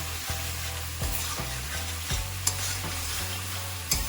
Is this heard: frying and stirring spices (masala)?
yes